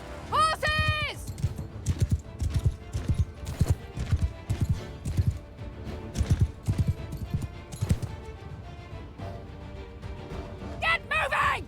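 Horses gallop in the Mount and Blade Bannerlord video game, with dense, close clip-clop hoofbeats that rise and fall and neighs and whinnies near the start and end.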